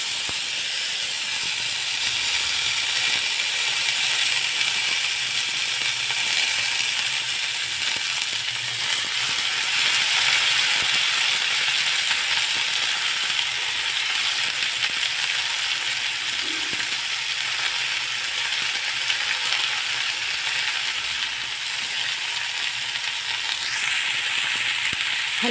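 Washed broad bean pods hit a hot, crackling cumin and mustard seed tempering and sizzle loudly, a continuous bright hiss that holds steady throughout with no voices.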